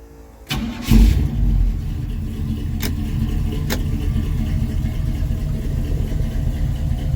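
A 1970 Chevrolet C10 pickup engine with headers cranks and catches, then settles into a loud, steady, throaty rumble from the exhaust, running close by without pause.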